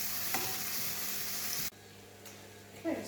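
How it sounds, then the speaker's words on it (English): Vegetables sauté in a pan and are stirred, a steady frying sizzle with soft scraping that drops suddenly to a quieter simmer midway, with no talking. "That is going to saute for approximately 10 minutes now. Just going to stir everything so it gets evenly coated."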